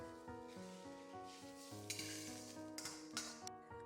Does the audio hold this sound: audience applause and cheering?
no